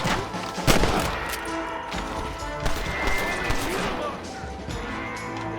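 Gunfire in Red Dead Redemption, a 2010 Western video game: a loud close shot followed by a steady barrage of cracks and crashes, with scattered reports over a busy battle din.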